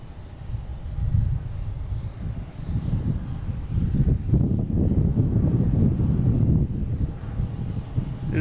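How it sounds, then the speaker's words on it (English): A Delta Airbus A319 airliner on flight 2646 to Chicago at Boston Logan International Airport, its engines a loud, sustained low roar that swells and stays heavy, mixed with wind buffeting the microphone. "Here's Delta heading to Chicago, A319, flight 2646."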